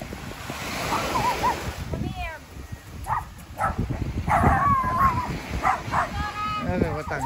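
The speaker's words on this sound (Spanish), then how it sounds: "Mira, ahí están los perros." Several dogs bark in short bursts at a moderate distance on a beach, over surf and wind noise, while a person talks intermittently.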